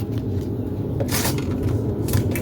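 A fighter jet flies low over a house near an airport, producing a loud, sustained deep rumble that fills the clip, with brief rushing surges of roar as it passes overhead.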